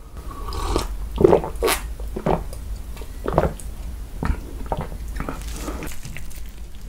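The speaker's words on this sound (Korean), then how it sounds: "그러면 맛있게 먹어보도록 하겠습니다." Close-miked ASMR eating of fried chicken and black bean sauce noodles with green onion kimchi: soft, wet chewing and a few crunchy bites repeat irregularly at moderate volume.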